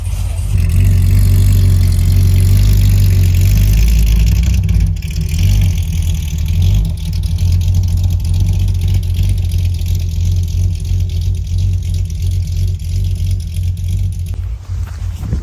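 An engine-swapped Corvette C6 Z06 rumbles loud and close, a deep steady idle with throttle swells and revs throughout.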